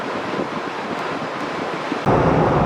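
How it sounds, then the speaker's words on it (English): Steady roar of wind buffeting a 2018/2019 Jeep Wrangler cruising on the freeway, heard from inside the cabin, loud and continuous, jumping to a heavier rumbling gust near the end. "Lots of wind noise, but it's a Jeep."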